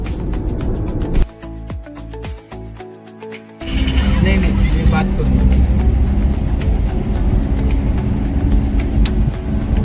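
A Maruti Suzuki Super Carry minivan cruises along the expressway toward Pune, its steady engine and road rumble continuous and close, briefly dipping before swelling back to a constant drone.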